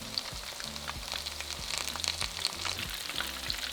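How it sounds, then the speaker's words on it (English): Coconut-panko coated prawns frying in a pan of hot oil, a steady close sizzle with faint crackles and occasional soft pops, no voices. "Add the prawns to the oil and cook on one side until golden brown"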